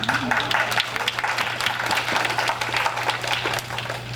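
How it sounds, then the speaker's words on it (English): An audience applauds law enforcement and the fire department at a township event, giving dense, sustained clapping close by with a steady low hum underneath. "Big round of applause for that."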